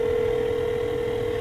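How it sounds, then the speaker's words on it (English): A telephone call tone sounds on the line: one steady, unbroken electronic tone held at an even level throughout, with no voices. "I'm calling him and he's screening my call."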